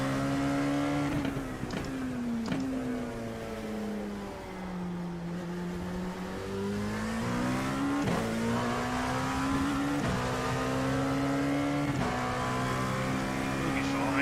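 A race car engine in the Daytona 24H sim racing game drones steadily and loudly, rising and falling in pitch through gear shifts and held throttle across the straight. A driver talks over it now and then.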